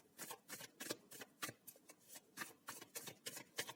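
Tarot cards shuffled and drawn for a pick-a-card reading, a quick run of crisp riffling flicks and slaps repeating in an uneven rhythm, close and fairly quiet with no talking.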